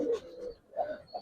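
A racing giribaz pigeon gives soft, close coos in a few short pulsing phrases with brief gaps between them.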